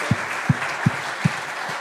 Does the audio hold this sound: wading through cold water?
no